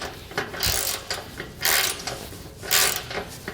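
A ratchet wrench cranks repeatedly as bolts and nuts are fully tightened on a Malone EcoLight Sport trailer, with close, loud bursts of clicking and short pauses between strokes, and no talking.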